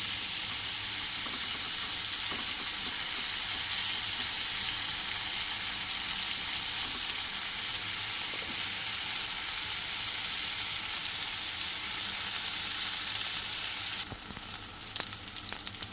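Water lily stems (shapla) fry in hot oil with a steady, loud, close sizzle that holds unbroken for a long stretch, then thins near the end as the pan is disturbed.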